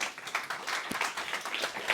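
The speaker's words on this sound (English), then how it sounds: "We can have a round of applause for Josephine, that'd be great" An audience at a startup networking mixer in London breaks into applause, a fairly close, busy patter of many hands with a few sharper claps poking through.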